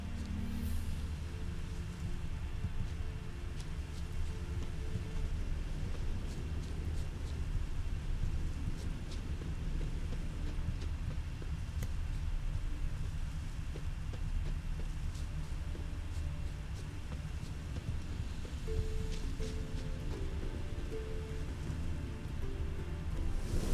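Steady rain pours in The Witcher 3, a continuous even hiss filling the whole stretch, with occasional low rumbles of distant thunder rolling underneath.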